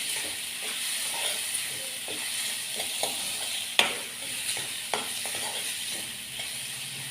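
Ingredients for a Kathiyawadi-style sandwich filling are sautéed in a pan, giving a steady soft sizzle and hiss with occasional scraping stirs and light clinks, close and without talk.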